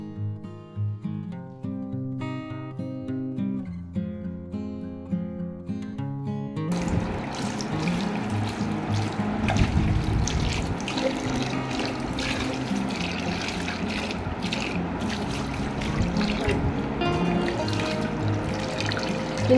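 Tap water runs steadily into a basin as feet are rinsed after hard skin is removed during a home pedicure, a continuous close splashing wash that starts abruptly after soft tonal music and fills the rest of the clip.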